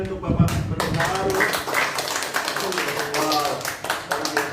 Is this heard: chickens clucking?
no